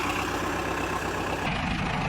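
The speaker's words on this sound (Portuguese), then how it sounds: "Trator ligado" A tractor engine running at a steady idle on a farm, a continuous close, loud low rumble with no voices over it.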